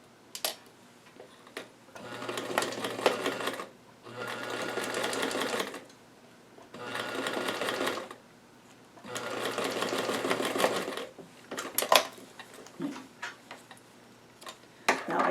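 A sewing machine stitches a dart in a small doll dress, running in four or five bursts of rapid even clatter, each about two seconds long, with quiet pauses and small clicks between them.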